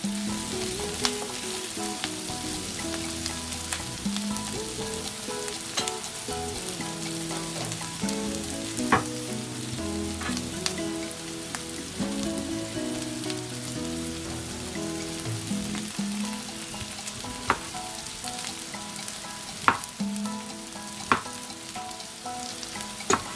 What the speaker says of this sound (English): Just spreading it around the pan, allowing it to gently cook out